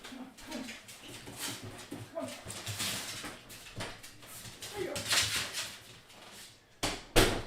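A dog shut in a room whimpers and whines in several short, close bursts, with shuffling movement between them and a sharp louder yelp near the end.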